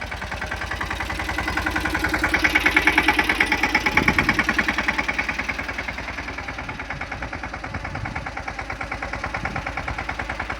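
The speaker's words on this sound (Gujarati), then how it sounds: "આ તમે જોઈ શકો છો મિની ટ્રેક્ટર જે આપણી મગફળીમાં હાંકવાનું કામકાજ ચાલુ છે" A mini tractor engine runs steadily while working a groundnut field, a close, loud, rhythmic chugging with a knocking pulse that swells slightly and then settles, alone without talking.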